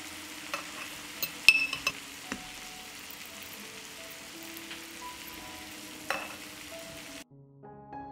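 Bacon frying in a pan gives a soft, steady sizzle at low level, broken by a few sharp clicks and clatters near the start before the sound drops away at the end.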